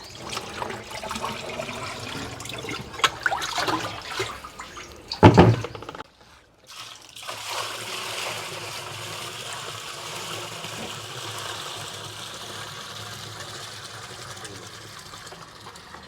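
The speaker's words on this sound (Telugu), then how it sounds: "నీళ్ళు కలిపేస్తున్నా కలిపి వడకట్టేస్తా" Water is stirred into plant nutrient mix and strained, giving a continuous close wash of sloshing and trickling, with a louder splashy burst midway followed by a brief near-silent gap before the flow resumes.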